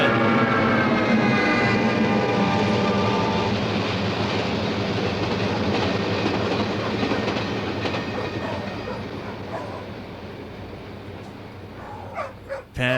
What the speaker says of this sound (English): Pet and train sounds.